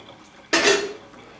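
Tubed pasta is shaken in a colander over a kitchen sink, with water draining off in one short, close, splashy burst of about half a second before the room goes quiet.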